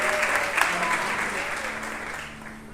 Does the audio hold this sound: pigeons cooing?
no